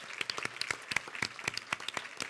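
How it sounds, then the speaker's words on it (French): Scattered applause at a Quebec awards gala honouring egg producers, distinct individual claps close by over a thinner crowd, fairly quiet and uneven in rhythm. "Grosse main d'applaudissement pour tous ces gens-là"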